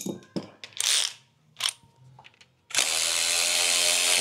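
A 10 mm ratchet wrench works on a Ford EcoBoost engine, giving several short, close clicking bursts separated by pauses, followed by a sustained loud mechanical whir.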